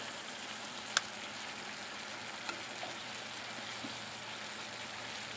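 Potatoes and onions deep frying in fat give a steady, even sizzle that runs throughout, broken by one sharp pop and a few faint clicks, with no voices.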